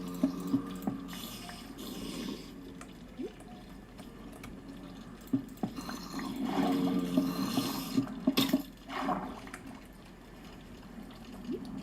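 Flowing water inside a flooded house in Minecraft, a continuous splashing, trickling wash that swells louder midway with scattered drips and soft game sounds, steady throughout.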